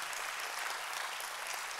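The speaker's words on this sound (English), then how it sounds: "Can you clap your hands for what he's done for you?" A church congregation at a Christmas service claps steadily, a soft, even wash of many hands with no voices on top.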